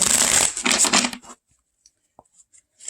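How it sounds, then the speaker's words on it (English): A deck of tarot cards is shuffled up close: a dense, loud riffling burst for about a second, then quiet with a few faint card taps and handling sounds. "I'm going to make sure I get a good shuffle."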